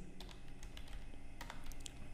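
Computer keyboard typing a search, quick light clicking keystrokes in an uneven rhythm, close but faint over a low background hum.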